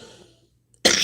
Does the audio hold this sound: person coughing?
yes